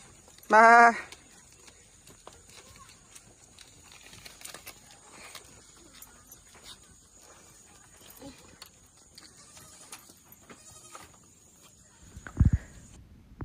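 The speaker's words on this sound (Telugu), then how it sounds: "మేకలన్నీ దూరిపోయినాయమ్మా బాగుంది మీ మేకల పాక" A goat in its pen gives one loud, close bleat near the start, followed by quiet shuffling and rustling in a village animal shed, with a short thump near the end.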